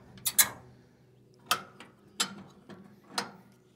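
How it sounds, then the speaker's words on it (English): Latches and pins being released on the discharge chute of a GX Commercial Big Bear BBC72 wood chipper: several sharp metallic clicks and clacks, a quick double snap, then single clunks spaced about a second apart, close and alone. "You pull the pins out, you pop the releases,"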